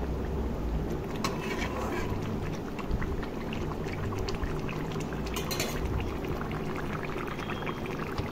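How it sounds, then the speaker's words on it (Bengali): Water bubbles at a steady simmer in a pan of aloo posto with pabda fish, a continuous soft, close boiling hiss and crackle with no voices. "তো দেখো জলটা ফুটে এসছে"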